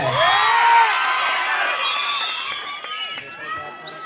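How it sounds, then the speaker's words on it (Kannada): A crowd at a live comedy show in North Karnataka claps and cheers, with loud whoops and whistles washing over the stage, steady and close, then easing slightly toward the end. "ನಮ್ಮ ಉತ್ತರ ಕರ್ನಾಟಕ ಜನತೆ ಒಂದ್ಸರಿ ಜೋರ ಚಪ್ಪಾಳೆ"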